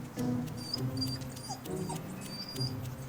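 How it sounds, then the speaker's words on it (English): A guard dog at a towing job whimpers and whines in short high-pitched bursts, close by and moderately quiet, with small yips between the cries. "If the guard dog will let him get rigged up."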